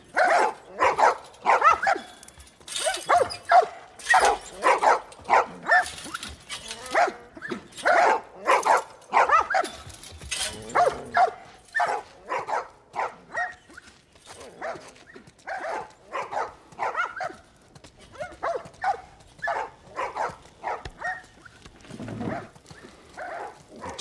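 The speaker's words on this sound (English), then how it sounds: "These dogs are all accounted for" Several dogs bark repeatedly in the video game The Last of Us Part I, a rapid rhythmic chorus of barks and yips at mid distance, steady for the whole stretch with no talking.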